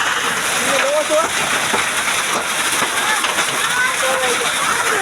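Heavy hail pelting down on a farm village in Gujarat, a dense, continuous clattering roar close by with someone talking over it.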